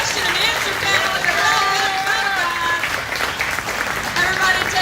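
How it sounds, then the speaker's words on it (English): Applause from a comic convention panel crowd fills the room, steady and dense, with voices carrying over the clapping throughout. "can we get a big round of applause"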